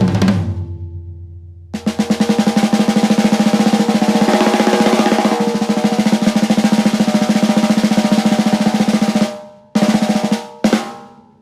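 A snare drum roll played on the rims, starting quiet and building in a crescendo into a dense, rapid, sustained rattle, then cutting off abruptly with two short final bursts.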